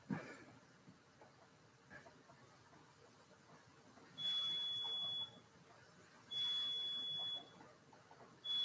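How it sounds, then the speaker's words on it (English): A household coffee maker gives repeated high electronic beeps, each about a second long, sounding at regular intervals above a quiet room hum. "That's just my coffee maker."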